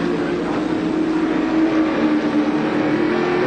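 A 1986 touring race car at Adelaide International Raceway drones steadily through a turn, its engine a sustained, loud, even roar held at near-constant pitch with no talk over it.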